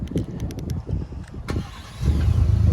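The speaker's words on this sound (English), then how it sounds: "That's how you remote start up your King Ranch Expedition." A 2021 Ford Expedition Max King Ranch is started by remote. A few clicks and light knocks come first, then the engine cranks and catches into a steady, low rumbling idle close by.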